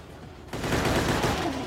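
Rapid automatic gunfire from the zombie shooter game Dead Trigger played on a Nexus 7 tablet, a dense burst of loud shots starting abruptly and continuing steadily.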